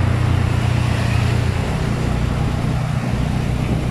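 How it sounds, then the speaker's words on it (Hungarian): City traffic of cars and motorbikes in Phnom Penh, a loud, continuous low engine rumble with steady road noise throughout. "Elég nagy zajt okoznak a járművek és a motorok."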